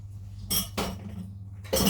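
A large tablespoon clinks three times against a bowl while batter is dolloped into cake cases: two bright metallic taps close together, a pause, then a third louder clink.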